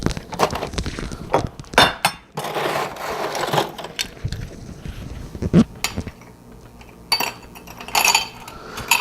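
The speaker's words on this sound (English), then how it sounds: "Get yourself an old-fashioned glass and ice it up." Ice cubes clatter into an old-fashioned glass in a home bar, a series of sharp clinks and knocks in uneven bursts with short quiet gaps, close and fairly loud with no talking.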